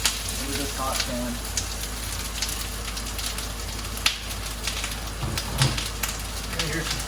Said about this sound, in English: I'm gonna dump all your onions into this hot pan.